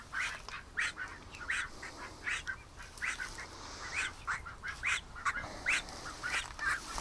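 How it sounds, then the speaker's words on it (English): A duck quacks repeatedly at close range, a series of short nasal calls in an uneven rhythm over quiet background, with no talking. "Relax, little duck."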